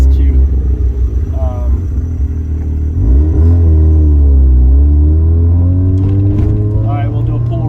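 A rotary turbo Mazda RX-7 engine revs up to about 4,000 rpm during a drive, a loud low droning pull with rising exhaust tone, heard from inside the car with voices talking over it.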